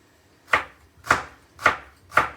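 A knife thinly slices ginger on a chopping board, making four evenly spaced, crisp, close cuts about half a second apart, each with a short woody knock, with no talking.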